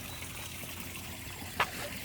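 A small water feature in a home garden trickles steadily and softly, a continuous gentle wash of running water with one brief sharp tick near the end.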